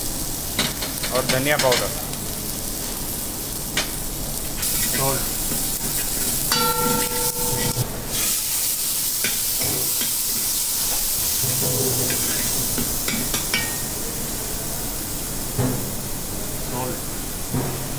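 Masala with turmeric, red chilli and coriander powder sautés in oil in a pan for a Rajasthani papad paneer sabzi, a steady close sizzle with occasional stirring clinks under a voice talking throughout.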